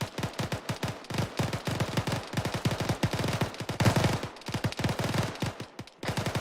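Video game gunfire in a squad training session as a team engages a technical vehicle: rapid automatic bursts and repeated shots, loud and close, rattling almost continuously with brief pauses between volleys.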